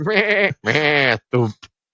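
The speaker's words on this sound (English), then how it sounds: "There's sheep in the front." Sheep bleat loudly and close by in a few long, wavering calls separated by short pauses, ending with a brief clipped bleat.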